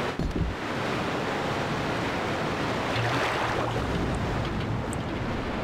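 Small waterfall draining away in Resident Evil 2, a continuous broadband rush of water that holds steady for several seconds, fairly loud and close, with no voices.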